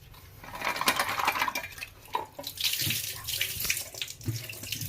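Jaggery being rinsed under a running kitchen tap, water splashing steadily into a sink with irregular surges and a few soft knocks, fairly close and continuous throughout.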